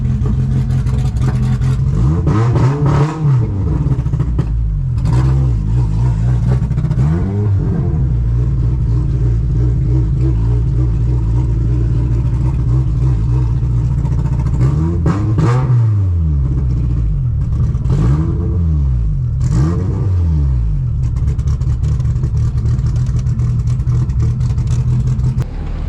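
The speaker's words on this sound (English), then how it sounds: "when the car is doing that sputtering, the gauge is reacting to it" The K24 engine of a Honda Civic wagon idles roughly, then revs up in several short bursts with choppy sputtering and jolting, loud and close, with no speech.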